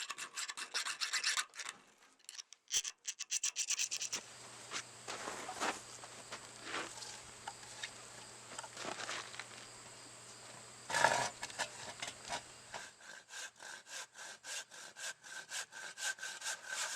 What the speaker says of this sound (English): what I'm doing here is I'm just trying to clear out the plug from the old handle.